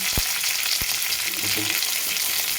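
Curry leaves crackle loudly in hot oil for a ridge gourd curry with garlic tempering. A dense, continuous sizzle is broken by a few sharp scrapes and taps as they are stirred close up.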